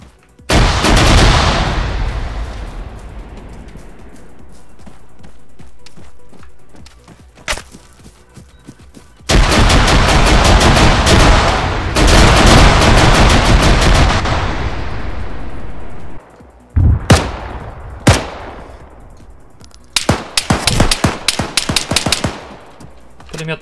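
Bursts of rifle and machine-gun fire in ArmA 3, loud and close: long automatic volleys trail off into echoing decay, separated by gaps and single sharp cracks, ending in rapid clustered shots.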